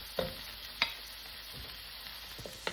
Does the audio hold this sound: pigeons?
no